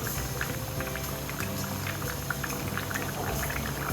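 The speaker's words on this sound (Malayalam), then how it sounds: "1 മിനിറ്റും കൂടെ ഇങ്ങനെ ഒന്ന് തിളയ്ക്കട്ടെ" Fish curry with drumsticks and colocasia boiling steadily in a pot, a continuous close bubbling and popping with no voices.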